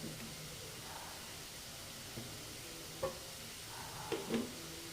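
Potato fry being stirred with chilli powder in a pan, a steady sizzle with a few soft scraping clicks of the spoon, close and fairly quiet.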